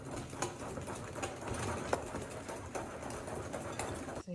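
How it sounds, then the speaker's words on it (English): A pie filling mixture is whisked until pale yellow, making a steady rapid whirring and rattling in the bowl, close and continuous, with no talk. "Now we're just going to whisk this up until we get a nice pale yellow color."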